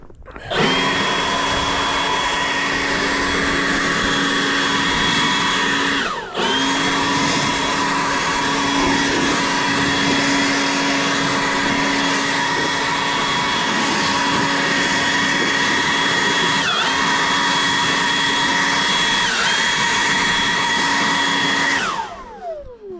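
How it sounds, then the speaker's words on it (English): Dual battery cordless leaf blower running near the microphone on a driveway, a loud steady whine with a strong tonal hum that dips briefly once and continues for over twenty seconds before spinning down. "This is the dual battery blower, and this thing rocks, man."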